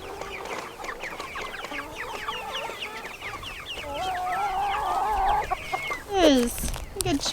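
Several chickens loose on a homestead cluck and squawk nearby in a busy, overlapping chorus, with one louder squawk near the end and rustling in the background.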